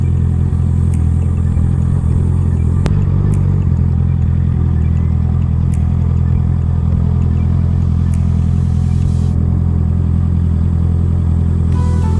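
Motorcycle engine fitted with an Akrapovic muffler, velocity stack, titanium sprocket and ECU tune idles loud and close in a steady, throbbing drone, with a few sharp clicks over the top.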